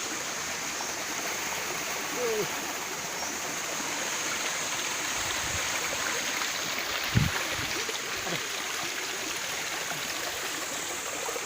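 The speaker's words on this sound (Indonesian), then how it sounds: "Lihat guys, sungainya guys." A river stream flows on a mountainside, a continuous rushing and splashing of water with a few soft knocks and thumps nearby and no clear speech.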